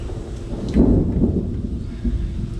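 Rain falls steadily outdoors while a deep roll of thunder swells and fades, with a low rumbling wash filling the background.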